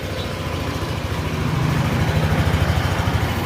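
A Yamaha NMAX 155 scooter engine running with its chassis separated, a close, steady idle with a low pulsing throb that grows slightly louder and more rhythmic toward the end.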